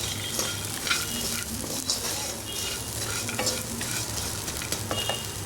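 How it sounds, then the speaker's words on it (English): Ingredients for a biriyani gravy fry in a pan over a low flame, giving a dense steady sizzle with intermittent scraping and stirring strokes throughout, close and unaccompanied by speech. "Fry these for around 2 to 3 minutes on low flame"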